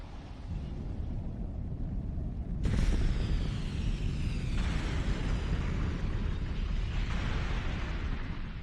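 Anak Krakatoa volcano erupting, a constant heavy rumble that bursts louder and fuller around the three-second mark and then keeps roaring with crackling, hissing debris, with no speech.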